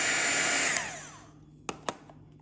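Handheld hot air tool blowing loudly and steadily while heating plastic, then winding down to quiet, followed by two sharp knocks close by.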